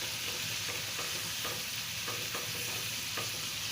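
Broiler chicken pieces fry in a pan for a Bengali bhuna dish, a steady loud sizzle broken by regular scraping stirs, with no talking.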